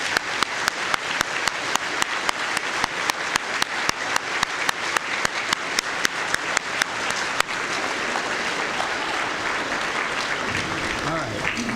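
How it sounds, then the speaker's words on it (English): Audience applause for military veterans standing at a school district Veterans Day program, a long steady roar of many hands with some sharper individual claps, continuing alone until it thins toward the end. "Let's give them a round of applause."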